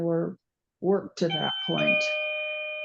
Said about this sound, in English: that's my doorbell ringing